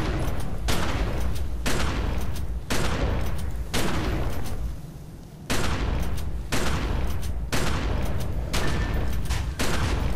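Repeated loud gunshots fired at a bound desert spirit in The Secret World, about a dozen sharp cracks in an uneven rhythm with a short lull midway, close and with no talking.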